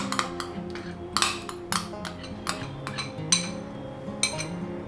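A spoon stirring milk with a biscuit-custard mix in a pot over a medium flame, making repeated sharp metallic clinks and scrapes at an uneven rhythm, close and clear.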